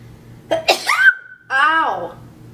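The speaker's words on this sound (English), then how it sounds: "Oh, Sneeze." A person sneezes once. A sharp, explosive burst is followed by a drawn-out vocal 'ahh' with a clear pitch, and a strained voiced groan comes after it. The sneeze is close and loud with no other sound behind it.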